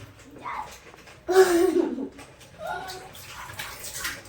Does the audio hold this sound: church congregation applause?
no